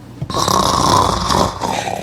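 A single loud, rasping snore swells up and holds for about a second before fading, close and alone.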